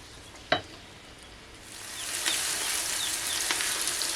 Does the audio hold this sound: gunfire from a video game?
no